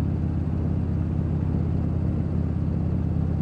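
A car rolls down a town's main boulevard in the early morning. The engine and road rumble stay steady and close, a low continuous hum with no voices.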